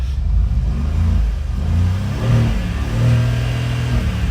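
A car engine idles loudly nearby with a few short revs swelling and falling back, a deep steady rumble throughout.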